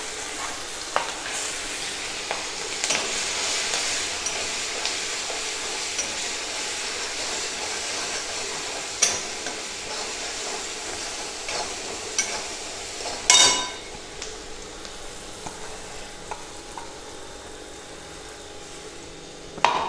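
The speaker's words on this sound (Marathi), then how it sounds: "त्याच्यामध्ये मी आता हिरवी मिरची घालून घेते आहे." Green chillies sizzle in hot oil tempering on low gas, giving a steady crackling hiss close up. Occasional stirring clatters break through, with a sharp knock midway before the frying quiets.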